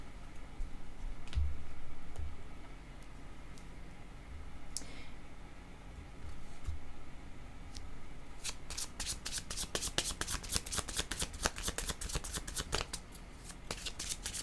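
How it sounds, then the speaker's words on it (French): Tarot cards are shuffled close by: a few soft taps and rustles at first, then a fast, dense run of crisp riffling clicks over the last several seconds. "Je vais demander une autre carte."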